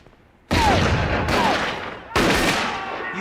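Three loud gunshot bursts ring out one after another, each a sharp crack followed by a long rolling echo.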